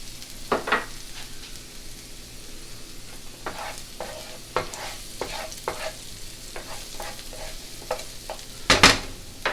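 Garlic goes into a pan of shellfish sweating for a bisque, bringing a low sizzle with a series of close scraping stirs and a louder burst of hissing near the end.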